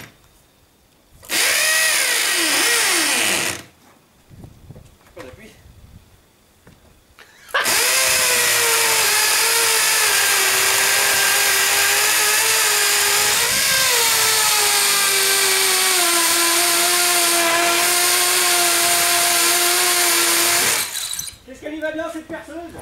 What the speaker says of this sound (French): Cette perceuse, tu le traverses le mur un jour ou quoi là?